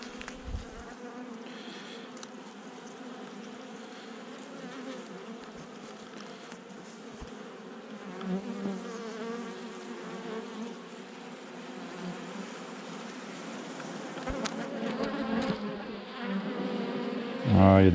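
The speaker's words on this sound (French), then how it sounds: "C'est encore des vieilles abeilles." A dense, steady drone of many honey bees buzzing up close at an opened hive, with louder individual buzzes passing near toward the end.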